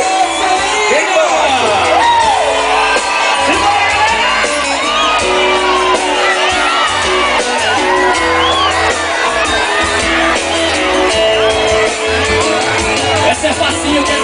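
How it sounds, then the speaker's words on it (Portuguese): A live concert crowd shouts and whoops loudly and steadily, welcoming a Brazilian singing duo on stage. "Ok, vamos receber com aplausos, eles vão cantar aqui com a gente."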